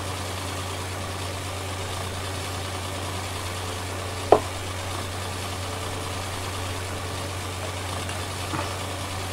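An old tractor idles steadily at low revs, a constant low mechanical drone with one sharp knock partway through and no talking.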